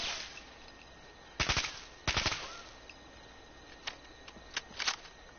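Bursts of automatic gunfire with bullets that explode on impact in Fallout 4: two sharp close volleys, then a few lighter scattered shots over quiet background.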